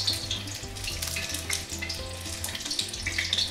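Sourdough-battered fish frying in hot oil, a dense steady sizzle with crackling pops throughout, close and continuous with no talk.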